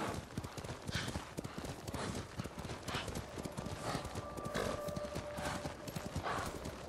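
Video game horse hooves clip-clopping in a quick steady rhythm while riding in Ghost of Tsushima, with a brief whinny partway through and a faint background hum.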